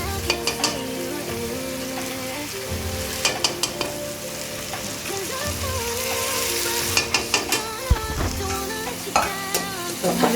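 Chicken biryani masala being stirred with yogurt in a pot, a loud steady sizzle with repeated scraping strokes of the spoon against the metal and a few clanks, heard up close and without speech.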